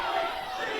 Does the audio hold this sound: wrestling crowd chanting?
yes